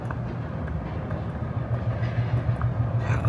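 A train rolls along the tracks nearby with a steady low rumble and rhythmic wheel clacking that grows slightly louder toward the end, with no talking.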